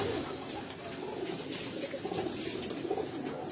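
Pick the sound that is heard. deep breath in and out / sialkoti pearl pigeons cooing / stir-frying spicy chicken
sialkoti pearl pigeons cooing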